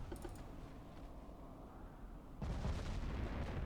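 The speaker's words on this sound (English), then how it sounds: "Oh, I got hit by a torpedo." A torpedo strikes a warship in the naval battle game Ultimate Admiral: Dreadnoughts, the background rumble stepping up into a louder, sustained crackling blast that roars on to the end.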